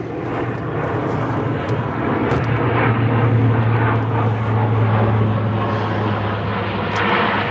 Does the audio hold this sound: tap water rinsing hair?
no